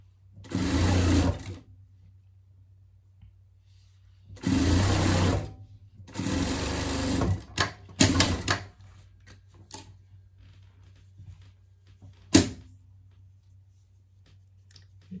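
Sewing machine running a safety seam along the bottom of a pet jester costume, in three or four close, loud bursts of about one to two seconds each, with a steady low hum underneath and scattered clicks afterward.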